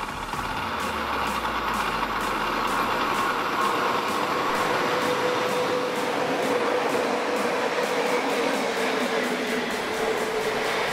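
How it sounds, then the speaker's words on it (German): A German Class 143 electric locomotive running alone toward Leipzig between Dresden and Leipzig passes with a steady loud rumble and rhythmic wheel clicks over rail joints, sustained throughout with no voices. "2020 fuhr ein Lokzug der Baureihe 143 in Richtung Leipzig."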